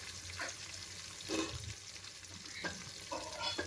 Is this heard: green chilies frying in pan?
yes